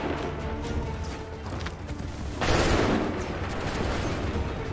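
Musket volley in Assassin's Creed 3: a rolling crackle of gunfire over a noisy battlefield bed, swelling into a louder burst midway and then trailing off into sustained din.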